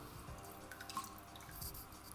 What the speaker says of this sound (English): I pop it out of the water.